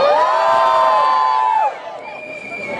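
Climate demonstrators at a Fridays for Future march in Erlangen let out a loud collective shout and cheer, a strong sustained roar of many voices that breaks off abruptly, leaving fainter crowd murmur and a lone whistle-like tone.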